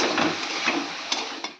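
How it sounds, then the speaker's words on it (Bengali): Ground cumin and chilli spices being sautéed and stirred in a pan for a Bengali fish curry, a steady sizzle broken by a few sharp scrapes and clinks of a utensil against the pan. "এবার আমি একটু কষিয়ে নেব"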